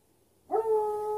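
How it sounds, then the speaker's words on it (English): A neighbor's dog out in a distant field lets out one drawn-out howling bark. The call is clear and sustained and starts after a short near-silence. "I think it's one of the neighbors taking his dog for a walk way out in the field."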